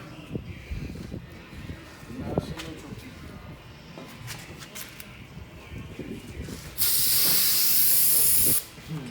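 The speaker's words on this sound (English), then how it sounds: "Did you squirt it with starting fluid? I know. Brake clean." A sharp continuous hiss of aerosol brake cleaner bursts out for about two seconds, loud and close, after a stretch of clanking and people talking, while reviving a supercharged Mustang race car.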